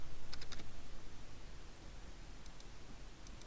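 A few quick keystrokes on a computer keyboard enter a trim command in Revit, faint clicks in two short bursts under a steady hiss of background noise.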